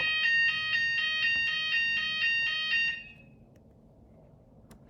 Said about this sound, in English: Fucking fire alarm in the hotel.